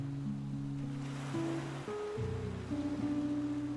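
Ocean waves wash steadily onto a tropical beach, a soft continuous surge with gentle swells rising and falling, faint and calm with no voices.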